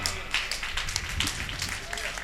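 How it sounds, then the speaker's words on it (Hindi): Audience applause at a mushaira poetry gathering in Bhadohi, steady crowd clapping running throughout with talk and voices mixed underneath. "एक जोरदार तालियां।"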